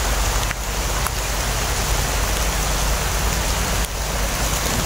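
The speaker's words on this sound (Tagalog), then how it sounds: "Puro na malakas yung ulan." Heavy rain pours on a mountain in a loud, constant wash close by, with a couple of brief dips in the roar.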